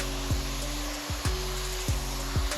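An air-fed spray gun at 30 PSI lays down a first coat of clear, a loud, steady, close airy rush broken by regular short bursts.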